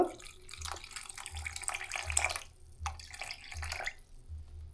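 Water poured onto soaked tamarind in a home kitchen, a soft close trickle with small splashes and drips, fairly quiet and with no talking.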